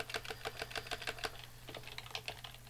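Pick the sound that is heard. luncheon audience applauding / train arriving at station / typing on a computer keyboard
typing on a computer keyboard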